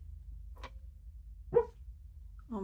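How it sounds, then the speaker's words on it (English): A dog dreaming beside her owner lets out a few soft, tiny barks and low growly sounds, spaced out in short isolated bursts over a quiet low hum. "She is growling and like doing these little tiny barks"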